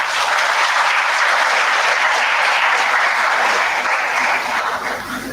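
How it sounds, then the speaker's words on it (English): A large audience applauding steadily for several seconds, a dense wash of clapping that stays loud throughout and eases only slightly at the end. "Give a big applause to Mohit."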